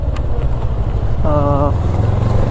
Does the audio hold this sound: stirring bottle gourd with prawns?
no